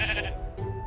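A sheep in the video game Minecraft bleats briefly, a short nasal bleat up close over a dense, steady game background.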